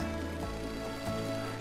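Steady, dense video game rain patters over a constant low hum with a few faint thumps, quiet and unbroken throughout.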